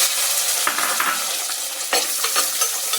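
Chopped shallots fry loudly in oil with dried red chillies, a steady, close sizzle broken by a few sharper bursts as they are stirred.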